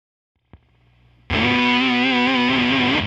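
Beetronics Swarm guitar effects pedal on setting 4: a faint pluck, then a loud sustained distorted, buzzy synth-like guitar tone with wavering pitch, held steadily for about two seconds before cutting off.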